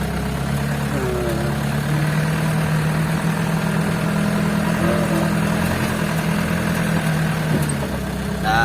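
A trail motorcycle used by mountain folk runs near a truck convoy, blending into a steady, loud rumbling engine idle with a low hum that continues throughout.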